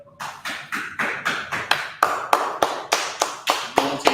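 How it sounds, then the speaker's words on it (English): A group claps hands in a steady, evenly spaced rhythm, about three claps per second, close and fairly loud with no talking over it. "Okay, clap it up, Israel."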